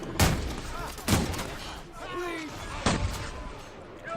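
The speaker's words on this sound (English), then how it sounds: "I blast out with a shotgun" In a video game, three sharp, punchy shotgun blasts go off at irregular intervals, each a loud, near crack. A voice is faintly present between the shots.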